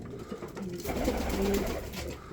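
An Adana pigeon's soft cooing call, close by and moderately loud over a faint background hum, with no talking.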